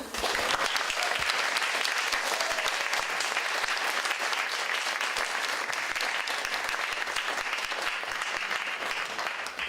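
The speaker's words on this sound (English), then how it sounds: "I really think that John Wick deserves already a big round of applause" A crowd at a wool and fine fiber symposium applauds steadily for nearly ten seconds, a dense, even wash of many hands clapping at constant loudness, heard from within the room.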